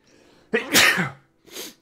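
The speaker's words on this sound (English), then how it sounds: "There's my one sneeze per stream." A single loud, close sneeze with a sharp intake before it, followed by a brief breathy exhale.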